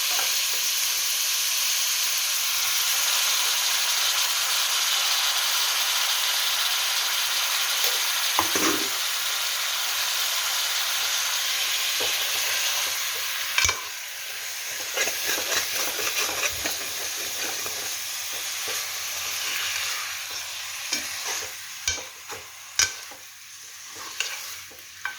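Country chicken pieces frying on high heat, a dense continuous sizzle with occasional stirring clatters and scrapes toward the end, close and loud.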